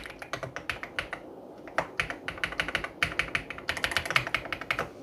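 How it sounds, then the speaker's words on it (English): Quick clicky keystrokes rattle on an Ajazz AK820 Pro mechanical keyboard connected by cable to a laptop, close and crisp, with steady bursts of typing and brief pauses and no voices. "we can start typing"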